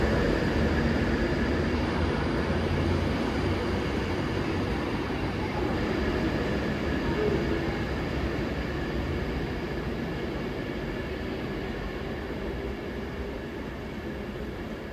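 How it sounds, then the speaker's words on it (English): A class 323 electric multiple unit pulls away from a station platform with a steady low rumble and rolling rail noise that holds close and fairly loud throughout, easing slightly toward the end. "the train that also departed for this one was the 323 going to Manchester"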